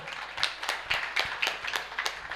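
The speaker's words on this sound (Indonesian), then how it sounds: "Perempuan mau, tepuk tangan." Women in a meeting audience clap their hands in a quick, uneven series of sharp claps that recur through the moment, moderately close with no speech.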